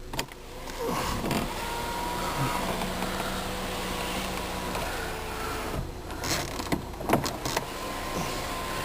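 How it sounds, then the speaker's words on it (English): A 2003 Volkswagen Jetta GLS sunroof closes under its electric motor, giving a steady, close mechanical whir that runs for several seconds with a few faint creaks and clicks near the end. "Sunroof."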